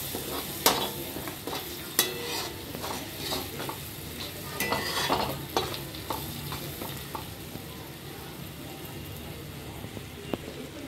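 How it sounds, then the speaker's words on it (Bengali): Turmeric, coriander and salt sauté in a pan, soft steady sizzling broken by sharp scrapes and clinks of a spoon being stirred. "হলুদ, ধনিয়া, স্বাদ অনুসারে নুন দিয়ে এগুলোকে আবার একটু সটে করে নেব।"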